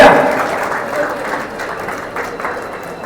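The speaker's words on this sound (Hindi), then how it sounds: "एक बार हमारे स्पॉन्सर्स के लिए एक बार जोरदार तालियां भैया" Applause from an audience for the sponsors at a live painting demonstration and art talk, a broad steady clapping wash that starts loud and slowly thins over about three seconds.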